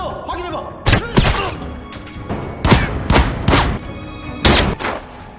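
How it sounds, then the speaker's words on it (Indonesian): Several heavy booms and thuds from an action film explosion sequence, sharp broadband bursts spaced irregularly over a continuous rumbling background, loud and close. "Tapi ledakan terjadi."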